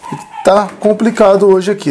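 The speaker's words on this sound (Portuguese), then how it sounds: "desculpa o barulho de cachorro latir" A dog barks and yips in short bursts while a person talks over it, close and fairly loud.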